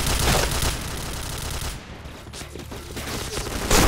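Loud bursts of automatic gunfire in an e-sport shooter game, heavy volleys at the start and end with a quieter stretch of scattered shots between.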